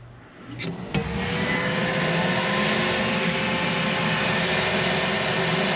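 A small shop printer whirs into life, a steady mechanical drone with a soft hum, running continuously after a couple of brief clicks and knocks at the start.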